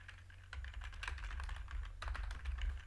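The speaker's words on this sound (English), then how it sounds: "In the table name field we need to type our table name" Rapid typing on a computer keyboard, a steady run of soft, close key clicks over a low background hum, with no talking.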